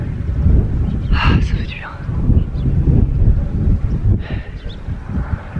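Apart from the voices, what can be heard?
wind at the Savitri Temple hilltop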